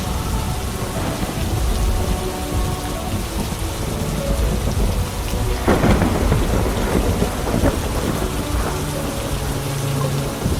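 A video game thunderstorm with steady, dense rain hissing throughout and a loud thunderclap rolling in midway before easing back into the downpour.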